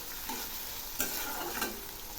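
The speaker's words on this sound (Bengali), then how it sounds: "এই পেঁয়াজগুলো আমি লাল করে ভেজে নেব।" Chopped onions and slit green chillies fry in oil tempered with nigella seeds, a continuous close sizzle with spatula stirs and scrapes cutting through it.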